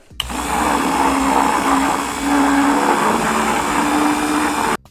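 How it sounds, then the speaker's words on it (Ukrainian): A spoon or whisk stirs protein powder into about 200 ml of liquid in a cup, a loud continuous whirring, rattling churn that runs steadily for several seconds before stopping abruptly, with no talking. "Розмішуємо все у чашці."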